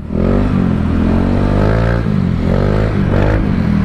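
A Honda Beat motorcycle engine revving hard on a test ride, rising and falling in pitch through repeated throttle blips, loud and close with no talking.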